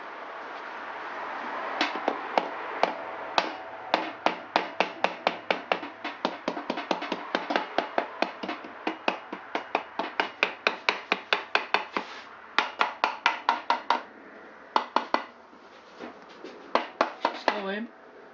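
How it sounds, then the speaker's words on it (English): A plastic hammer taps repeatedly on Honda SL125 engine parts during piston and barrel removal, dozens of sharp, close knocks in quick uneven bursts with short pauses between runs. "Plastic hammer"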